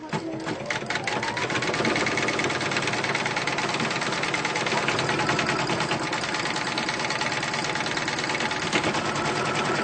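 A computerized embroidery machine stitches a placement line, a steady, rapid mechanical whirring and needle chatter that runs unbroken for about ten seconds, close and fairly loud.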